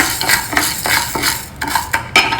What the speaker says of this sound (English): Now I am adding about 2 spoons of urad dal and we'll roast it in this.